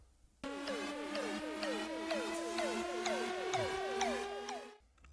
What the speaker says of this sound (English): I added a couple new riser sounds.